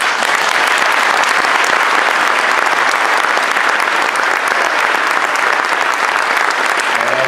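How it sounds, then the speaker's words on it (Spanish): Audience at a municipal handover-of-office ceremony in Neuquén applauding steadily, a dense, sustained wash of clapping from a large crowd, loud and continuous throughout. "Creo que esa fiesta y este agradecimiento merece un verdadero aplauso."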